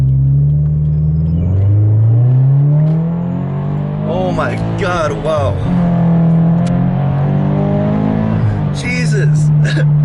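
A Subaru BRZ fitted with a new equal length header accelerates hard, its engine note climbing through the revs, dropping at a shift and rising again, loud and close from inside the car while an excited voice exclaims over it.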